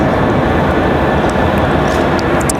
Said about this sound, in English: A319 really fast as it pulls off the runway